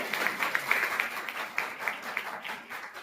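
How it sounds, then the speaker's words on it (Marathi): College students at a leadership workshop applaud. The clapping is fairly soft and distant, with distinct individual claps standing out across a few seconds. "टाळ्या वाजवा सगळे"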